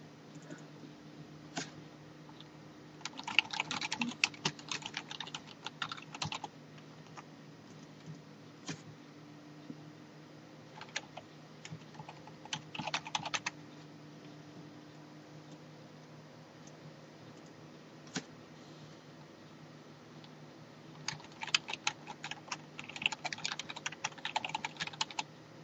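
Someone enters billing details on a computer keyboard while buying web space and a domain name, with several bursts of rapid key clatter, close and moderately quiet, broken by pauses and single taps, over a faint steady hum.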